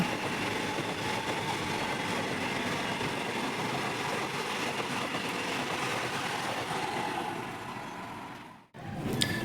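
A loud, continuous rumble and rattle of a moving train rounding a bend, heard from inside, with a brief dip near the end.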